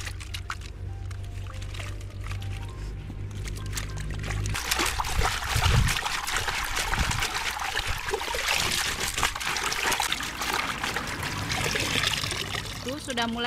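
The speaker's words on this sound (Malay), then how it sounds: "Terus kita masukkan ke dalam air." Water chestnuts in a red basket are lowered into water, giving a steady wash of splashing and trickling that swells after a few seconds and continues throughout, close and fairly loud.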